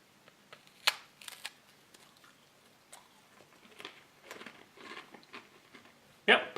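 A US MRE cracker being bitten and chewed, with sharp crunchy snaps followed by scattered, quieter chewing crackles close to the microphone, capped by a loud crunch at the end.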